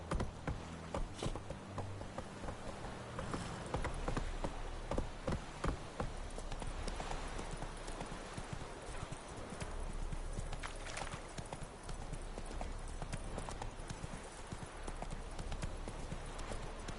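Roach the horse gallops in The Witcher 3 video game, a steady rapid clip-clop of hooves running throughout, close and prominent over a busy game soundscape with a brief low rumble of background sound.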